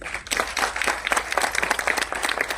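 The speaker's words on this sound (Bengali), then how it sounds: "অনিল বাবুর জন্য আরেকটা হাততালি প্লিজ" Applause from an audience at a Kolkata film release event for the Bengali film Porobasi, a steady ripple of many hands clapping after a call to honour a contributor, fairly loud and continuous for a few seconds.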